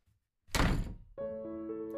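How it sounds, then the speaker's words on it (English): A door bangs open and shut with one loud heavy thud after brief silence, then a steady tonal hum carries on close by with no voices. "A bang of the door as it opened and closed woke me up from my reverie."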